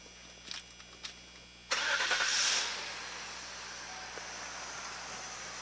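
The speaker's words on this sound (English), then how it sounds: "Again, the vehicle can be started." A vehicle engine cranks and catches after a few faint clicks, then settles into a steady, fairly loud idle that keeps running to the end.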